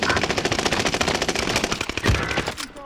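Automatic gunfire in a video game rattles in a loud, continuous rapid burst of closely spaced shots that lasts almost the whole moment before cutting off.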